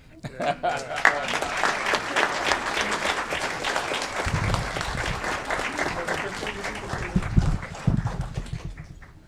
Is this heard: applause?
yes